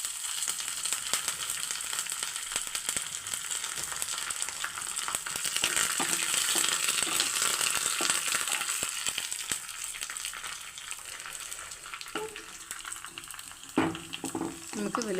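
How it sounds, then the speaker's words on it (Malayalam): Onion, dried red chillies and curry leaves frying in hot oil in a pan for a raw-mango dish, a loud continuous crackling sizzle with occasional stirring scrapes near the end, no talking. "നമുക്ക് വറ്റൽമുളക് ഇട്ട് കൊടുക്കാം. കൂടെ തന്നെ കറിവേപ്പില ഇട്ട് കൊടുക്കാം."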